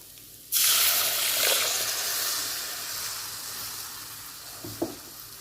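Ground masala hits hot oil in a pan for a chicken gravy with a sudden loud sizzle that slowly settles into a steady hiss, broken near the end by a brief scrape of stirring.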